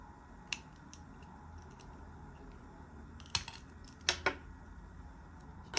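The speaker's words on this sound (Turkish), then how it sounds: "hemen altına tornaviden ucunu sokarak ince bir tornaviden kıracağız" A thin screwdriver pries plastic seals off a Mercedes car key, giving a few sharp, faint plastic clicks and snaps against a quiet room background.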